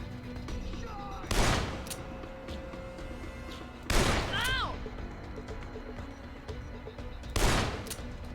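Gunfire in the Dead Island video game, three separate loud bursts of shots spaced a few seconds apart, with background game noise and whistling between them.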